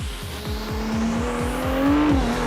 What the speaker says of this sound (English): let's try to make an acceleration and listen to the sound of the 296 GTB